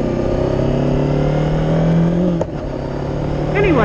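A small motorcycle engine drones steadily at near range while being ridden, with a brief dip around midway and a rising pitch near the end, no talk over it.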